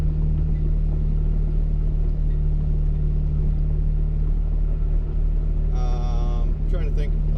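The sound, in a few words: turbocharged 2008 Honda Civic Si engine accelerating through gears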